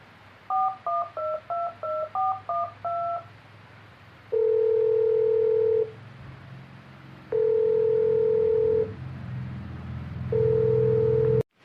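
Phone keypad tones beep in a rapid run of about eight dial presses, followed by three long, loud ringback tones with pauses between them as a call is placed again, with no talking.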